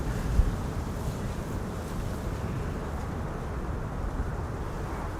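Wind and aircraft wake turbulence by a runway at Amsterdam Schiphol after a landing, a steady broad low roar and rushing buffeting, continuous and fairly loud, with no voices.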